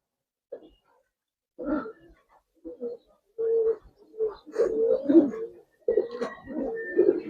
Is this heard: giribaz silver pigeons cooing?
yes